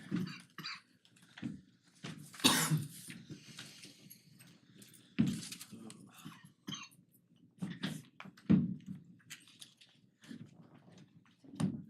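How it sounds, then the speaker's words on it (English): Repeated coughs and throat clearing come in scattered bursts, fairly faint and close, with short quiet gaps between them. "You gotta work on that cough, man."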